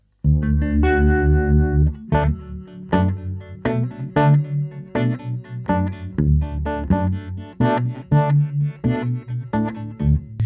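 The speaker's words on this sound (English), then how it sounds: "And this is the vibrato on the Reverberammo." Electric guitar chords played through the vibrato of a Reverberammo pedal, a wavering, pulsing effect, loud and close, notes ringing in a steady rhythm with no voices.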